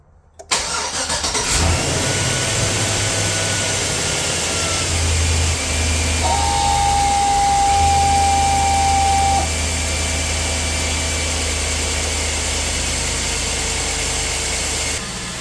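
A Chevy Silverado pickup engine cranks and starts, then settles into a steady, loud, slightly high idle that runs on close by without a break.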